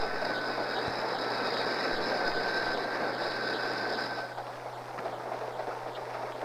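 A ski train rolls along as another train passes, giving a steady close rumble of wheels on rails with sustained high whining tones that cut out partway through, no voices.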